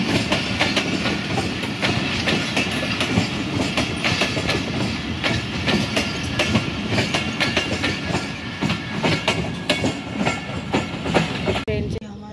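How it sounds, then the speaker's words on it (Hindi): A train pulling out of a station, with steady clickety-clack of wheels on rails and a continuous rumble that fills the whole stretch, fairly loud and close, as if heard from on board. "और ये ट्रेन जाने लगी है"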